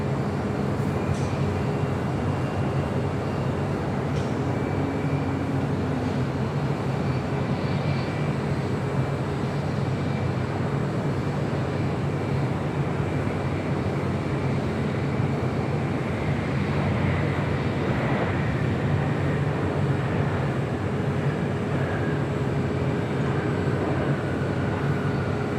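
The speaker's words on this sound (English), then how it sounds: "That was Delta Airlines Flight 482 coming in from JFK, 767 at 300 ER." A Delta Airlines Boeing 767-300ER arriving from JFK at LAX, a constant wide rumble of jet engines, moderately loud and unbroken from start to finish.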